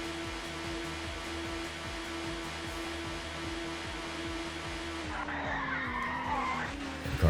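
A touring race car at Thruxton circuit in ToCA Touring Car Championship skids with a sustained squeal of tires over its droning engine, the screech rising and shifting near the end as the car slows.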